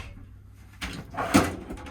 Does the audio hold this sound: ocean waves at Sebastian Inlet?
no